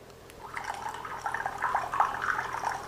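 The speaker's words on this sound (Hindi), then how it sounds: "ये पानी है, हम इसको डालते हैं" Water is poured in a steady, bubbling stream during a science demonstration, the splashing and gurgling growing slightly louder over a few seconds, with no one speaking.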